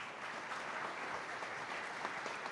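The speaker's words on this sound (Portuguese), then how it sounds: "você pode aplaudir o Senhor?" A church congregation claps in a dense, steady wash of applause, moderately distant and fairly quiet, with faint voices mixed in.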